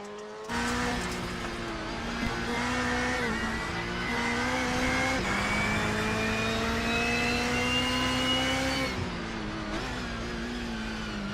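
A rallycross race car heard from onboard during a lap at Winton, its engine revving loudly with steady pitch climbs and drops through gear changes, close and continuous throughout.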